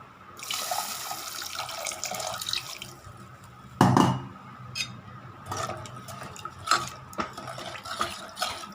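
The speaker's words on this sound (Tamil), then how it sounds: "இன்னும் கொஞ்சம் தண்ணி ஊற்றிக்கலாம்." More water is poured into a pot of stem amaranth greens curry, a splashing, hissing pour for a few seconds, then a louder splash and scattered clinks of a vessel and utensils nearby.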